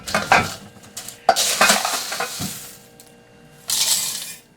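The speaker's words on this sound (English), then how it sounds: "I'm just going to fill up my jars." Dried mixed vegetable pieces are poured into glass jars, a close, dry rattling patter in several separate pours with short pauses between them, and a final louder cascade.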